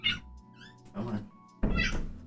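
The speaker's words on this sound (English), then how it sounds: "Oh, I hear my cat." A house cat meows a couple of short, rising calls indoors, fairly faint and separated by brief pauses, with people talking around them.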